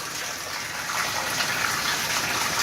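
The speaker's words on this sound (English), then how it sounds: "It looks like the water is draining." Water gushes and drains steadily in a flooded foreclosed house, a loud, continuous rushing wash that swells slightly partway through, with no voices.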